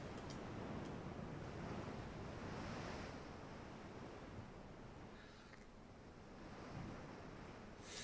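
Ocean water in the naval warship game Ultimate Admiral Dreadnoughts: a soft, continuous wash of surf and waves with a faint wind-like hiss, quiet and steady throughout.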